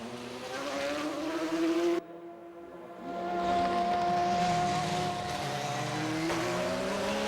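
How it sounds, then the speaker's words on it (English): Bentley race car screaming past at high speed in the 2002 Le Mans 24 Hours, a loud, sustained engine whine that rises in pitch, briefly cuts out, then surges back and holds, heard alone without talk. "It's a very impressive race car."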